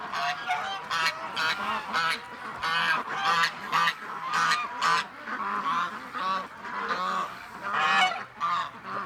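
Ducks calling close by on a cold day, a lively series of loud honking and quacking calls that overlap in irregular bursts, with no talk.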